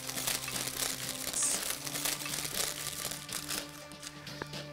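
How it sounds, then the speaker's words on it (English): Cellophane wrap from a Halloween skull arrangement gets cut, producing a run of close, quiet crinkling and rustling with small snips and crackles throughout. "I'm gonna cut the cellophane now like this."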